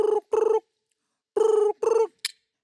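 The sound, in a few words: mimic imitating a telephone ringing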